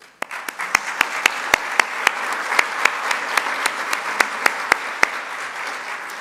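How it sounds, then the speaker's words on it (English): An indoor audience at a community charity event applauds sponsors with steady, moderately loud clapping and a few sharp individual claps standing out over the dense crowd of hands. "I'll give you a round of applause"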